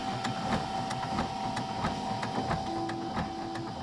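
Canon MF3010 laser printer running its feed mechanism without picking up paper: a steady mechanical whir with a constant tone and regular faint clicks, close and continuous, no talking.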